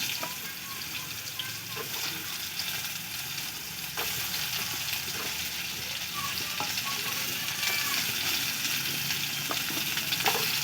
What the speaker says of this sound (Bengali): ঝিঙেগুলো প্রথমে আমি ভেজে নেব